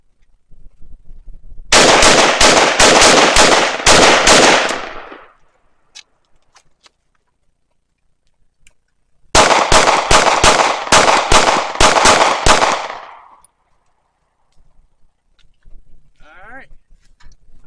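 Two rapid strings of loud, close gunshots ring out during outdoor shooting drills, each burst of several quick shots followed by silence, with faint clicks and handling noise in between.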